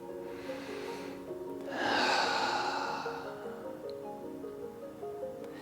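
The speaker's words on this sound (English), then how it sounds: "we're going to start breathing" A long breath drawn and let out while holding a seated stretch with one leg raised and a hand behind the back for support, a broad airy exhale over steady background hum.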